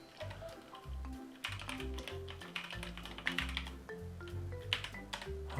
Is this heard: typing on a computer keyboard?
yes